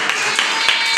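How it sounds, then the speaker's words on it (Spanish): A church congregation applauds in a dense, continuous wash of clapping with a few louder claps standing out. "Vamos a darle un aplauso a Cristo."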